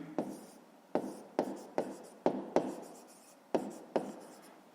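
Pen or pencil writing out a fifth-grade math solution on paper, heard as eight or so short scratchy strokes at a fairly steady rhythm, close up and fairly quiet, with no talking.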